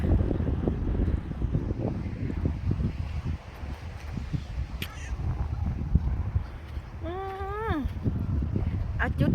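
Sea wind blowing over a clifftop in England rumbles steadily across the microphone and stays close and continuous, with a brief bird call near the end.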